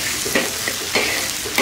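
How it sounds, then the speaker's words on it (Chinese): Ginger, garlic, scallion pieces, Sichuan peppercorns and dried chilies stir-fried over the lowest heat in oil, a steady soft sizzle with repeated light scrapes and stirs of a spatula in the wok. "来炒香"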